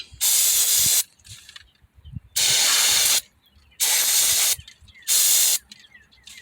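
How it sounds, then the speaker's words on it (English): Four sharp bursts of brake cleaner spraying from an aerosol can onto an ignition coil or spark plug area, each about a second long, separated by short pauses with faint handling noise between them. "I'm gonna go ahead and spray some brake cleaner."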